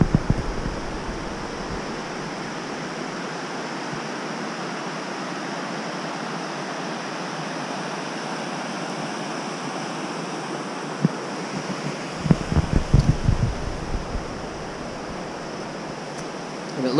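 Suwattle River flowing past its bank, a steady broad rushing of water heard close, with wind buffeting and some handling knocks near the end.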